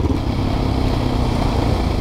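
A Husqvarna 510 SMR motorcycle engine roars loudly and steadily nearby, a dense rough exhaust note held throughout the short stretch with no speech.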